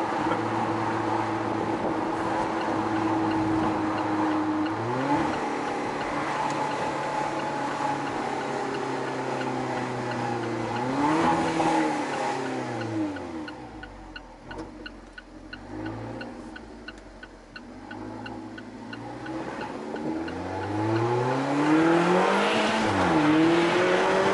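An Alfa Romeo 4C sports car engine drones near and loud while driving with the windows down and the top off, rising and falling through several revving sweeps, easing off mid-clip before building again.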